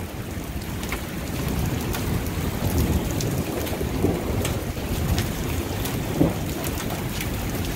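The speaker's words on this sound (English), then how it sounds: "It's hailing." Hail and heavy rain fall during a severe spring storm, a steady dense rattle and hiss with scattered sharper ticks of stones striking surfaces nearby, no voices.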